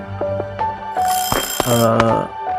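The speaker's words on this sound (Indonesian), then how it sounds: "Oh ini alarm nih, matiin dulu nggak sih alarm?" An alarm clock ringing in the video game A Space For The Unbound, with steady electronic bell tones and a few brighter clattering bursts partway through, fairly loud and close, with no voices.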